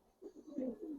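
Soft cooing of old-breed giribaz pigeons, silver and pankhi types, at a pigeon market; a short low burbling coo rises after a brief quiet, close and moderately loud.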